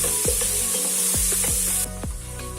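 Garlic and ginger paste sizzling in a hot pan, a bright hissing fry with several soft clicks and stirring scrapes, then the sizzle drops quieter near the end.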